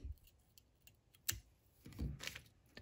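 Scissors snip off excess material during fly tying, making a few faint, sharp clicks and snips close by in an otherwise quiet room.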